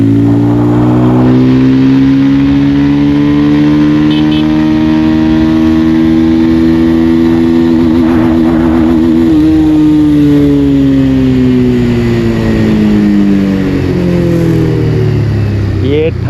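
A Bajaj Pulsar 220F motorcycle accelerates hard through its gears, the loud engine note climbing in pitch, dropping briefly at each shift, then rising again, heard close up with the rider speaking over it.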